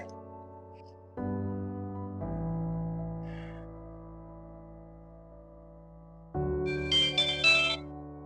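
A short electronic notification chime rings out near the end over a quiet musical background, bright and close.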